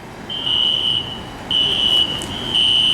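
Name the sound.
fire alarm going off in building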